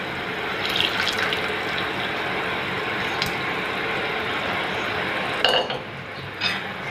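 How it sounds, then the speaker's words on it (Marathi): Water pours in a steady, loud rush into dal masala in a pan. A couple of metallic clinks from utensils sound near the end. "थोडंसं पाणी घालतो."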